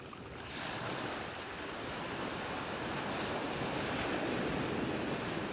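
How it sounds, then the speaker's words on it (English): Sea waves surge and roll inside a stone sea cave, a dense, continuous washing roar that builds gently and stays steady with no voices. "every wave that enters and retreats echoes through the cave, turning it into a natural concert hall beside the sea"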